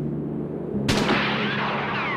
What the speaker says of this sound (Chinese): 人家都死了，那边乱开枪